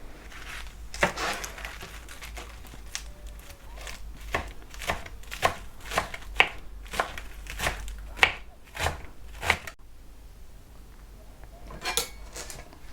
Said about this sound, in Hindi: सबसे पहले लेटस काट लेते हैं।